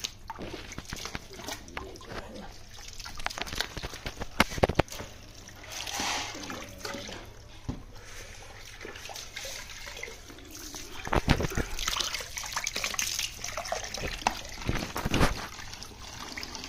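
Water is poured into a container of jaggery to make enzyme, with trickling and splashing in several bursts, brief clunks between pours and faint talk in the background.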